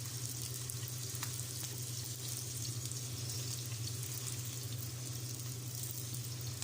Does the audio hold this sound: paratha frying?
yes